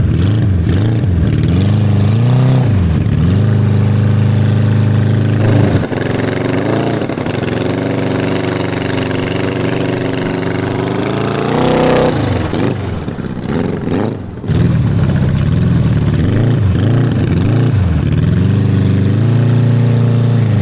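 A supercharged four-cylinder engine on a motorized wheelbarrow runs loud and close, revving repeatedly with rising and falling pitch, a brief dip near the middle, then more revs.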